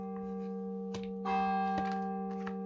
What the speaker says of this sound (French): Je vais avoir 11 coups de cloche, hein.